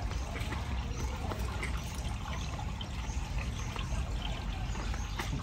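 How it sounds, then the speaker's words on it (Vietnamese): A clean, clear farm stream used for irrigation rushes and burbles steadily at close range, a dense unbroken wash of flowing water with no voices over it. "tại đây là có một con suối con suối này thì nước rất là sạch"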